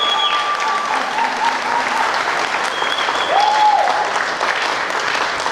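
A church congregation at a Sunday morning service breaks into sustained, full applause, a dense, steady roar of many hands with scattered whoops and cheers rising over it.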